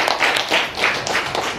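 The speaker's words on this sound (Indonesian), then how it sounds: "Tepuk tangan untuk teman tadi." Classroom applause for a classmate, a brief round of children's hand clapping in loose bursts, close and moderately loud.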